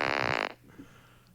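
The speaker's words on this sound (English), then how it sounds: "I'm so focused on these incredible fart sounds." A loud, buzzy fart sound with a strong tonal rasp lasts about half a second, then breaks off into quiet background noise with faint murmuring.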